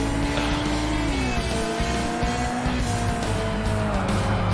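Mazda Miata engine in a Forza racing game, revving loud and steady with pitch drops and rises as it downshifts, upshifts and downshifts again, engine tone continuous throughout.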